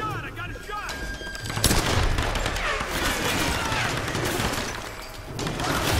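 Gunfire from the Tomb Raider video game, a burst of loud shots followed by ongoing rattling combat noise that carries on at a steady level.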